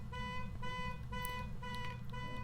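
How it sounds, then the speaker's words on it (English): A car alarm in the Phasmophobia video game, set off by the ghost, sounds as a repeating electronic tone in steady pulses, fairly faint beneath a low rumbling background. "It turned on the car alarm."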